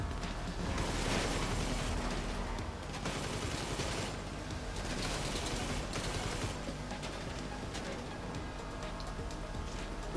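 Bursts of gunfire from the video game GTA V, shooting at car tires, fire in rapid dense volleys that crackle loudly and continuously with short dips between bursts.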